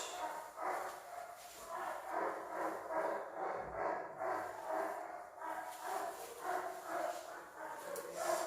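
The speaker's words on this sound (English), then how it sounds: "excuse me for my dog's noise." A dog barks and whines repeatedly close by, in an uneven run of yips and whimpers with no pauses.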